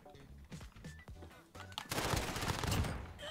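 Rapid gunfire in the video game Modern Warfare during a 6v6 multiplayer match, scattered single shots at first and then a dense sustained burst of automatic fire, loud and close.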